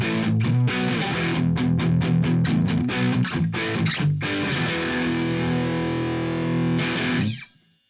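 A Fender FMT Telecaster electric guitar with its middle pickup selected plays distorted strummed chords loudly, with rhythmic strums and brief muted gaps, ending on a ringing chord that is cut off abruptly.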